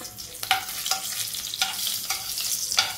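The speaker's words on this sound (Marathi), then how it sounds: "2 हिरव्या मिरच्या आधी थोड्या तळून घेऊ." Two green chillies fry in hot oil as the first step of a dal tempering. A close, crackly sizzle is punctuated by sharp spits and pops, and no one speaks.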